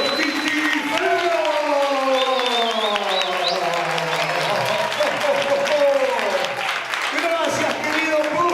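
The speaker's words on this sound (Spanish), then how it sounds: "fuerte el aplauso para recibir a los Titiriferos" A live theater crowd applauds and cheers to welcome puppeteers onstage, loud and continuous, with voices calling out over the clapping.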